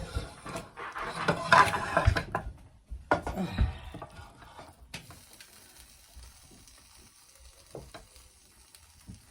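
Cooked chicken gets stirred and mixed into pesto Alfredo pasta in a pan, with scraping and sloppy stirring sounds up close, loudest at the start and then fading to quieter clinks and shuffling.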